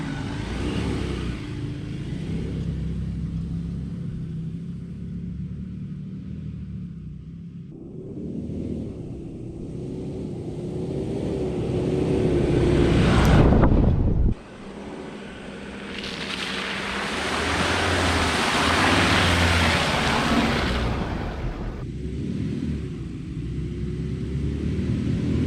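A 4x4 driving off-road through the terrain of Little Desert National Park in Victoria, its engine and tyres producing a continuous low rumble with rising and falling surges of wind and road noise and a brief drop midway.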